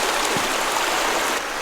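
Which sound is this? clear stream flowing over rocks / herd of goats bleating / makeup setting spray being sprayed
clear stream flowing over rocks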